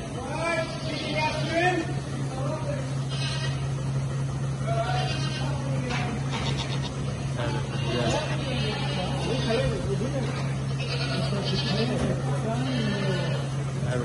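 Goats bleat repeatedly on a farm, several wavering calls overlapping at close to middle distance, over a constant low mechanical hum and some background chatter.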